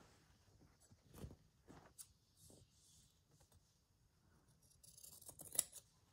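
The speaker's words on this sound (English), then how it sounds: "So let's just cut a piece off." Scissors cut a piece of linen fabric with quiet, close snips, a few scattered crunches and one sharper snip near the end, set against a near-silent room.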